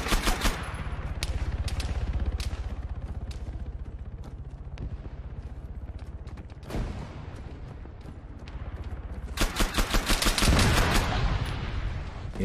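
Rapid bursts of gunfire from a gun in Arma 3, shots spammed in quick succession, loud and sharp, with a dense cluster near the end.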